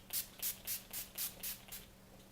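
Seven quick, soft bursts of NYX makeup setting spray hiss in an even rhythm, close and fairly quiet, with nothing else heard.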